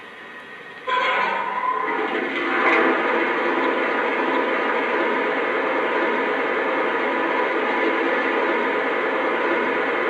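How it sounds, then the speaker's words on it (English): Continuous rushing of water pouring into the tender of a Lionel model Norfolk & Western J-Class 4-8-4 #611 locomotive, a steady broadband hiss after a brief clank at the start, with rail noise beneath. "here's the sound of water being added to the tender."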